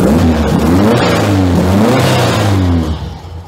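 An air-cooled Volkswagen Beetle (Fusca) engine in a tuning workshop revs hard and loud nearby, its pitch rising and falling through several throttle blips before easing off at the end.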